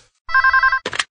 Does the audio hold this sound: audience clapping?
no